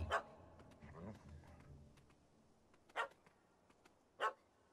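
A small dog yaps in The Witcher 3: Hearts of Stone. Two sharp, separate barks ring out a second apart after some murmured voices and soft game ambience, moderately loud and fairly close.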